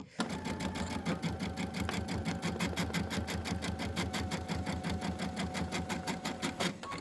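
Sewing machine stitching an embroidered Easter tile, a close, steady rapid rhythmic chatter of the needle running continuously at an even pace.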